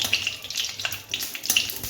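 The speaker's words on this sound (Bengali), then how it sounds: "দেখো আস্তে আস্তে আস্তে আস্তে ভাজাটা হচ্ছে, একটু একটু দিন।" Curry leaves frying in hot oil for spicy suji upma give a steady, moderate crackling sizzle with scattered brighter pops and spatters, heard up close with no talking.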